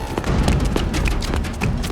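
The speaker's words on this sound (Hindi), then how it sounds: "गोली चलने की आवाज कहां से है?" Several sharp gunshot cracks ring out in quick, irregular succession over a dense, noisy background, loud and close.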